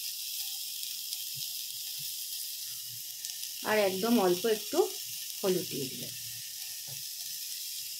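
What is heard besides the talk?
vegetables and potato frying in ghee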